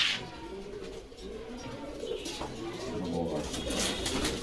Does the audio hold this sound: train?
no